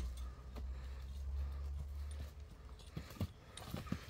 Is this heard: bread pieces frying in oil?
no